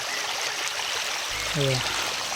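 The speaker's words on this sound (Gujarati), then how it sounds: "જુઓ આ બધું પાણી અહીંયા જાય મારા ખેતરમાં" Rainwater rushes and flows steadily through a farm field after heavy rain broke the field embankments, a constant close wash of noise, with a brief voice heard partway through.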